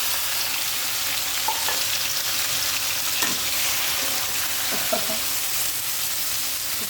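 Sweet potato greens and dried fish frying in oil, a dense continuous sizzle close up with faint stirring scrapes.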